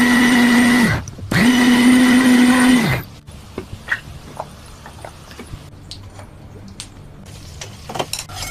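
Kitchen mixer grinder blending spice paste for masala bhindi, two loud steady whirring bursts with a brief pause between, then stopping, followed by quiet clinks and handling sounds.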